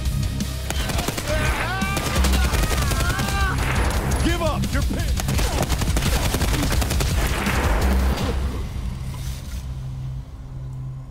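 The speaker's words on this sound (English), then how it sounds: "I just like the sound of the SA-58" Continuous SA-58 rifle fire in the shooter game Escape From Tarkov, with rapid loud shots running almost without a break until near the end, while someone shouts over the gunfire.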